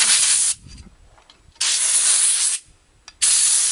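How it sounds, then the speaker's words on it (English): Compressed air blasts through the oil holes of a chainsaw during basic maintenance: three loud, broadband hissing bursts, each roughly a second long, separated by short quiet gaps with faint handling noise. "I take my air once again to clean out those holes"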